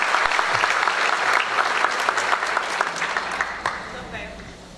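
Audience at a conference panel applauding a speaker, steady dense clapping throughout that slowly fades toward the end.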